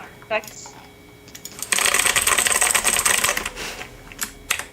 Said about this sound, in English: my keyboard is clicky